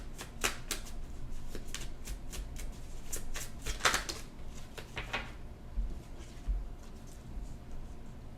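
A tarot deck shuffled by hand, a quick run of crisp riffling snaps and ruffles up close, steady throughout with no speech.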